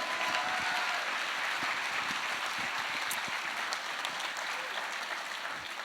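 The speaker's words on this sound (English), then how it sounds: "So can we give a big round of applause for Ross Lee, please?" Sustained audience applause fills a hall at an Autism's Got Talent show, a dense, even wash of many hands clapping at steady volume for about six seconds with no voices standing out.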